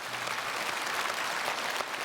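A church congregation claps together at a Sunday worship service, a dense, steady wash of applause filling the whole stretch with no voices over it.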